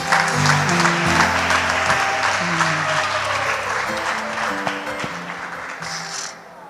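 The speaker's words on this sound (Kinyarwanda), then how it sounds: "Tumwongera amashyi menshi Christian." An audience applauds for Christian at an event, a dense, loud wave of clapping that holds steady, then thins and fades near the end, with voices faint underneath.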